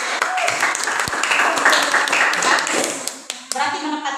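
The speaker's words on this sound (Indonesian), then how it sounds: "Tepuk tangan dulu untuk Ibu." Class 7B students clapping for their teacher in a classroom, a short burst of hand claps and taps with a few sharp individual claps standing out near the end.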